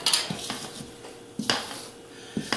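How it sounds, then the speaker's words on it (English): A mixing bowl is shifted and scraped while chocolate batter is folded with dry ingredients, giving a few soft clinks and knocks spaced across a couple of seconds, close and fairly quiet with no talking. "So you can see I'm just moving the bowl."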